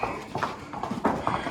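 Horse hooves clip-clop in a steady, moderately close rhythm of about half a dozen strikes on hard ground, with faint voices in the background.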